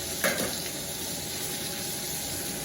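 A Wagyu New York strip steak sizzles in a hot pan, giving a steady, soft hiss with a brief louder crackle near the start and no talking.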